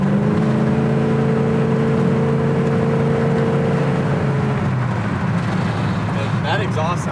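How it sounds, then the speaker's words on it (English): A 1972 Chevelle Malibu cruises at about 65 mph near 2,600 RPM, its exhaust a steady low drone heard from inside the car, easing off toward the end while someone talks over it. "And that exhaust sounds really good."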